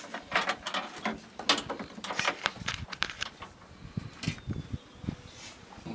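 Nuts are tightened down over flat and lock washers while an AeroBox cargo box is assembled, producing quiet, steady ratcheting clicks and small metallic rattles throughout, with no talk.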